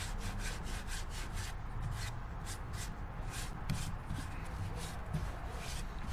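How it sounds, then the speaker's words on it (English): End grain shavings are rubbed by hand into the cracks of a black walnut urn, making a quiet, close, rhythmic scrubbing with repeated brushy strokes. "work it in all the cracks, and then take end grain shavings"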